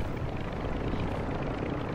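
A helicopter in a Call of Duty match makes a steady, loud rotor and engine roar that fills the scene without pause and with no voices over it.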